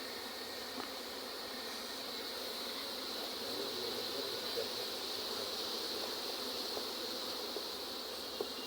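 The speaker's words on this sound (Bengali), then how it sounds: "এদিকে এই যে বাক্স ভর্তি মৌমাছি" A steady, dense insect hum fills the whole stretch, many honey bees droning together around boxed hives on a bee farm at an even level with no talking.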